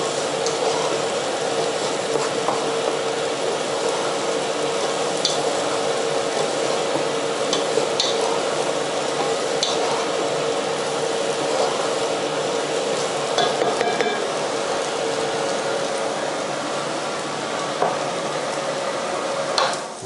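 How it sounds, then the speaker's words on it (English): Potatoes tossed gently in a spice mixture in a pan, giving a continuous soft sizzling and stirring with occasional light scrapes, under steady fan noise. "just toss them nice and gently in the spice mixture, just so that the spice mixture coats all of the potato"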